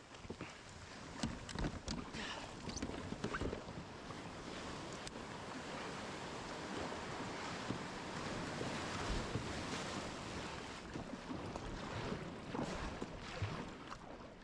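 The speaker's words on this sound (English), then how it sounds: "darkness with the waves coming in." Ocean waves breaking and washing in at a night kayak launch, a faint rushing surf with wind buffeting the microphone and scattered splashes and knocks.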